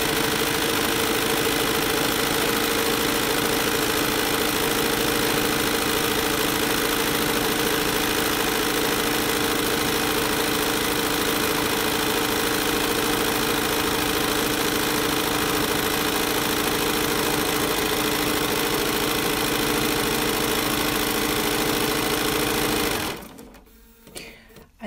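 A sewing machine runs at maximum speed while free-motion stippling a quilt, making a loud, steady, continuous whirring drone that stops abruptly near the end.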